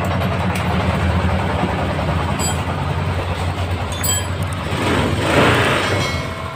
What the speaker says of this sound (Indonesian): Untuk pembuktian akan saya hidupkan motornya.